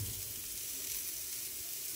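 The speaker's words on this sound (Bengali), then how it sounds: "ওদিকে ফুলকপি ভাজা হচ্ছে" Cauliflower frying in a pan, a steady close hiss of sizzling oil that runs evenly from start to finish with no voices over it.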